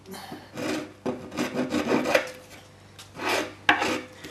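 Rasping and rubbing strokes of hand-shaping a bevel on the edge of a wooden daggerboard for a 10-foot Nuthatch dinghy, several bursts of close, moderately loud filing separated by short pauses.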